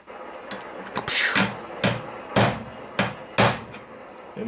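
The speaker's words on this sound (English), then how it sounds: "Center punch for the hole." Several sharp metallic hammer strikes on a center punch marking a drill hole on a Can-Am Maverick X3, irregularly spaced, each a bright ringing knock close by, with quieter taps between.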